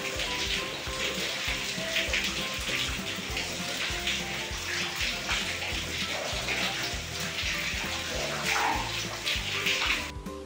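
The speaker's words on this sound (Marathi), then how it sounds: "इकडे बघा कसा पाऊस सुरू आहे, रिमझिम रिमझिम" Light drizzle falls steadily, a continuous watery patter and trickle close by, with a low rhythmic thumping underneath and no talking.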